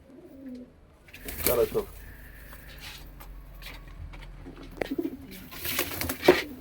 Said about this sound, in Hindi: ये सफेद कबूतर बिल्कुल मलवाई कबूतर है